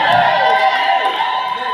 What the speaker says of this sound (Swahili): Ongeza makofi kwa Yesu.